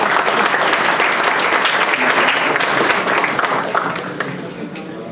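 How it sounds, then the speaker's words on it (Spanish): Dense audience applause at a university lecture, steady and full before tapering off toward the end. "Recibámoslo con un aplauso, por favor"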